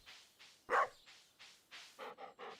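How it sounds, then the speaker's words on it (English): Dog in the Stardew Valley video game being petted, giving a series of short barks and yips: one louder bark stands out early, then quicker repeated yips follow near and clear, with no talking. "We pet the dog, guys."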